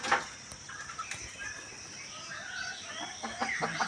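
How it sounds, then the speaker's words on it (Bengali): A hen inside a cage gives a few short clucks at close range, spaced irregularly over quiet farmyard background noise. "এই খাঁচার ভেতরে একটা মুরগি আছে"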